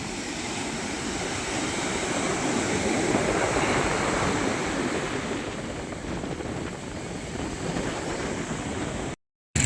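Sea waves roll and wash in a broad rushing roar, swelling and easing over several seconds with wind buffeting the microphone, then a brief dropout.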